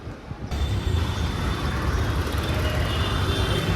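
A train rumbles loudly and steadily close by at a station, a dense low roar that starts abruptly and carries on without a break.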